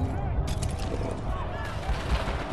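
Firecrackers thrown in the video game Homefront: The Revolution, a rapid, dense crackle of small pops and bangs over a rumbling game soundscape, loud and continuous throughout.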